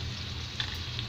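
Spices with turmeric and salt frying in a pan for khichdi, a soft, close, steady sizzle with a couple of small pops, fairly quiet and without talk.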